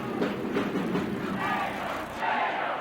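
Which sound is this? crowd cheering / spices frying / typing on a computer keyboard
crowd cheering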